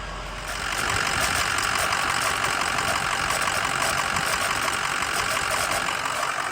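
A Ford 6.0 Powerstroke diesel engine idles as it warms up, a steady, dense clatter with rough knocking texture holding at a constant level after a brief quieter start, close and unbroken.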